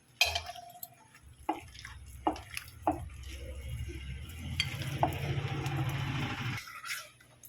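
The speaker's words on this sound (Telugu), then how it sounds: "ఇగో ఈ మజ్జిగ ఈ విధంగా మరుగుతుంటుంది" A pot of buttermilk curry heats on the stove, first with scattered knocks and clatter, then a low steady bubbling simmer that stops abruptly near the end.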